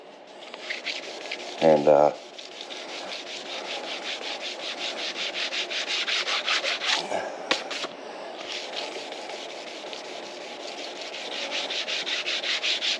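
1000-grit sandpaper rubs over the finish of a 2017 EZGO RXZ golf cart in continuous back-and-forth strokes. A brief louder scrape comes early, and a voice speaks only briefly.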